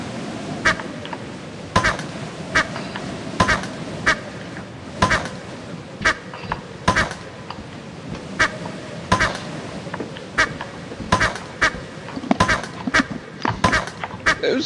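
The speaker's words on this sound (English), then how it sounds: "It was throwing a rubber duck at me." Rubber duck squeaks repeatedly in the video game Lethal Company as it is thrown, a series of sharp quacking squeaks scattered irregularly over a busy game soundscape.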